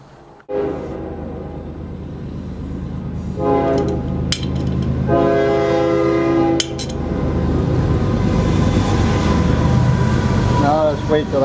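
A passing train builds into a loud, continuous rumble, with two long, sustained horn blasts sounding close by in the middle. A brief voice-like warble comes near the end.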